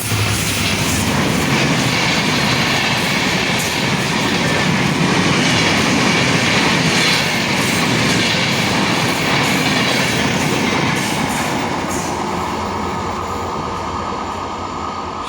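The Madhumati Express, hauled by locomotive 6601, runs through Srinagar railway station at speed, a loud continuous rumble and clatter of wheels on track, with rail hiss that eases slightly near the end.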